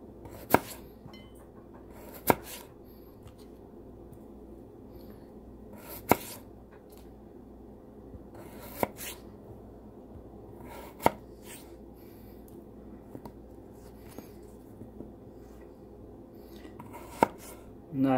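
A Cold Steel Master Hunter knife slices thin pieces on a board, sharp isolated cutting taps spaced a couple of seconds apart over a soft steady background.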